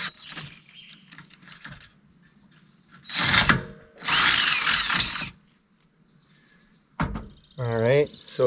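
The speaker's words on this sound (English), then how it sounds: "When you're drilling metal, just go slow, enough to get through" A power drill whirs in two slow, sustained bursts, grinding steadily at low speed through metal with an oiled bit, with quiet pauses and a voice speaking at the end.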